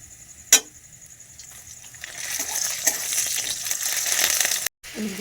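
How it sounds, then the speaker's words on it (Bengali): Fried onions in mustard oil with ginger and black pepper paste added, starting as a quiet sizzle after a single sharp clack, then swelling into a louder, fuller hiss with brief stirring, close by. "পেঁয়াজ ভাজা হয়ে গেছে, এখানে আদা বাটা গোলমরিচ বাটা দিয়ে দেবো"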